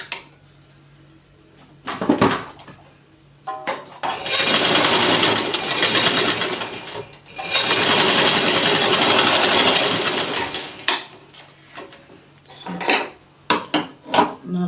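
A sewing machine stitches the side seam of a straight skirt in two long, loud whirring bursts with a brief pause between them. Quieter handling clicks and taps come before and after.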